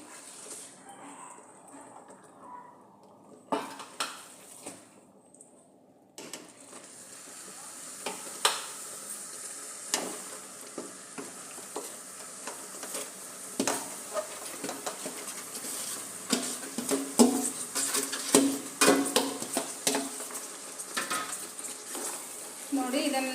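A spoon stirs grated coconut into bubbling sugar syrup in a pan while making coconut holige, a sweet flatbread. The stirring gives repeated scraping and clinking strokes over a soft sizzle, quiet at first and then steadier and louder.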